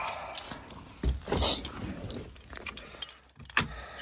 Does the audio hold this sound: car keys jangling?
yes